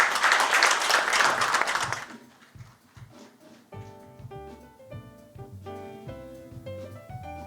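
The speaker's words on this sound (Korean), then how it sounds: "큰 박수로 맞이해주시기 바랍니다" An audience at a ceremony for a national welfare event for people with intellectual and developmental disabilities bursts into applause, a loud burst of clapping for about two seconds that gives way to music.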